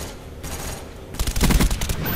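Video game gunfire, a rapid burst of automatic shots rising out of a busy background of battle noise, close and fairly loud with no talk over it.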